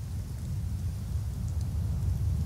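Steady rain falls in the fantasy video game Skyrim, a dense even wash of patter over a low rumble, continuous and fairly loud with no voices.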